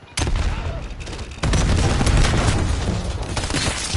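Cluster strike explosions in the Black Ops 7 multiplayer match: a dense rolling barrage of booms and gunfire that starts sharply and swells louder about halfway through, staying heavy to the end with no voices.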